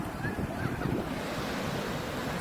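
Sea waves wash steadily onto the shore at Calicut beach in Kerala, a continuous broad surf roar with soft wind noise, close and moderately loud throughout.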